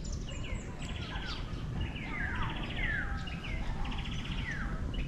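Birds chirp and call in quick, scattered phrases on Mount Gahis in Soro Soro, Batangas City, moderately near, over a steady rushing background of wind and outdoor noise, with no talking.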